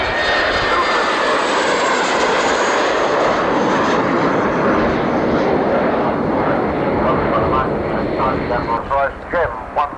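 Aircraft taking off together during aerobatic displays at the Farnborough Air Show in 1990, a loud, close, continuous engine roar filling the whole stretch, with a faint voice emerging near the end.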